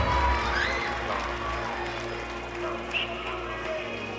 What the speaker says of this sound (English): Give all those people a round of applause.